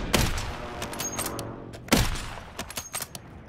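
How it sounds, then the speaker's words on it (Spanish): Video game shootout gunfire, a sharp volley of shots near the start and another burst around the middle, then scattered rapid pops trailing off, close and loud. "El tiroteo"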